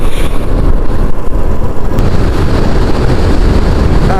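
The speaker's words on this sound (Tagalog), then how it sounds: "Lakas ng hangin, napakalamig." Strong wind buffets the microphone in a steady, loud roar while riding a Yamaha Aerox V2 scooter at night on a two-lane road between Bulacan and Pangasinan, with engine and road rumble underneath and no speech.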